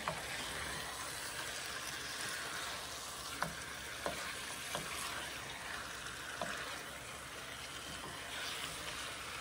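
Chicken with masala being fried and stirred in a pan for a desi chicken dish, a soft steady sizzle with occasional faint spoon scrapes and clicks, quiet and with no speech.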